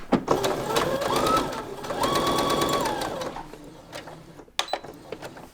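Home sewing machine stitching a dart with a slight curve at a short 1.8 stitch length, a close rapid mechanical whir in several bursts that rise and fall in speed, stopping near the end with a few clicks.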